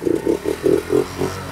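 A tiny motorbike engine is blipped six times in quick rhythm in a workshop, each short rev buzzing up and dropping back, close and moderately loud.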